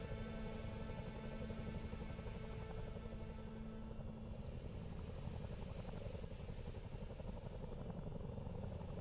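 A CH47D Chinook helicopter flies over the Canary Islands, its rotor beat a steady, heavy, continuous drone at moderate distance with no break.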